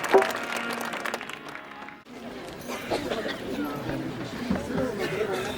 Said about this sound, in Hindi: जोरदार तालियां प्रभु यीशु मसीह के लिए